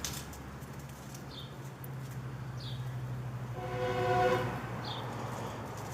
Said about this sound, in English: If you hear that train in the background.